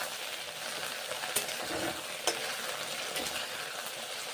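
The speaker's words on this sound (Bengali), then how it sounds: "তেল গরম হয়ে গেছে, এখন ঢ্যাঁড়সগুলো ভেজে নিচ্ছি" Okra frying in hot oil for a spicy vegetarian curry, giving a steady close sizzle and crackle that runs without pause, with no voices over it.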